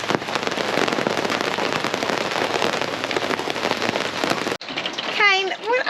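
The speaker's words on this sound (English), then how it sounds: "It's storming outside." Heavy rain from a storm on the NSW South Coast, a loud dense roar of falling water that cuts off abruptly, followed by a quieter stretch with a voice speaking.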